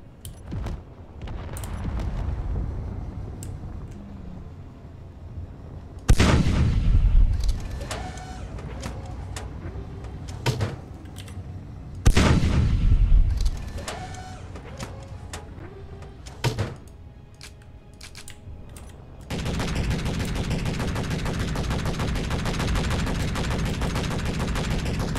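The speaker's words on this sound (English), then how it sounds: "Oh god, they're shooting rockets." Rockets fired in the Space Engineers video game, with two heavy booming launches over a steady mechanical drone, scattered clanks and hits, then a loud continuous whirring hum at the end.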